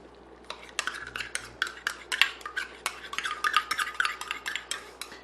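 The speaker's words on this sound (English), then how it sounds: "I'm going to mix in our mustard." A spoon clinks and scrapes against a pot while stirring mustard into beer braising liquid for a German-style chuck roast, with irregular close metallic taps and rubbing strokes at a moderate level and no talk.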